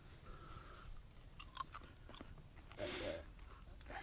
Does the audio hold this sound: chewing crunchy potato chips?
yes